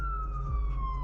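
A police car siren wails as a steady, high tone that falls slowly in pitch, over a low rumble of traffic or bass.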